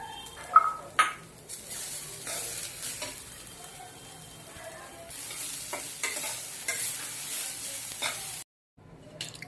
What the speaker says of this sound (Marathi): आपला तांदूळ आता छान परतून झालेला आहे त्यामध्ये आपण खोबऱ्याचा किस टाकून घेऊया